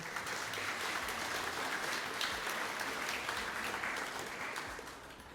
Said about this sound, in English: Please, let's give them all a big round of applause for what we've achieved here today.